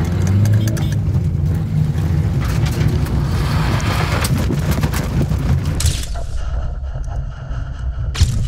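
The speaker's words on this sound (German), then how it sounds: "Wie immer, wir beschleunigen auf 50" Car engine rumbling and building under road noise while accelerating to 50, then easing off into quieter hum with a few sharp knocks near the end.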